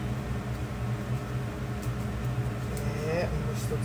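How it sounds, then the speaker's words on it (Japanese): Kitchen ventilation fan running steadily at home during cooking, a constant loud broadband whir with a low hum filling the whole stretch, while someone talks over it. "換気扇の音がうるさくてごめんなさいです。"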